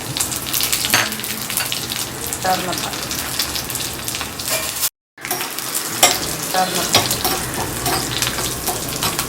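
Shallots, fenugreek seeds and dried red chilies fry in a pan for a traditional theeyal, giving a steady close sizzle with stirring scrapes. The sound breaks off briefly and then resumes.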